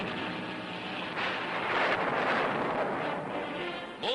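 Volcanic eruption with ripping explosions inside a fiery crater as smoke columns rise, heard as a loud, continuous roaring rumble with surging bursts throughout.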